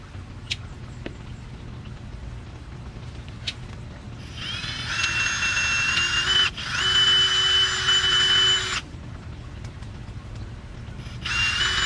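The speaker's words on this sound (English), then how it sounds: "now that I'm done screwing on these, I'm gonna screw on the tops so Meredith can't climb out" A power drill drives screws into the tops of an outdoor box turtle enclosure, whining in three separate bursts of a few seconds each over a low background hum.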